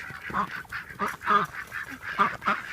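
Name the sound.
Dusky Dutch Hookbill duck calling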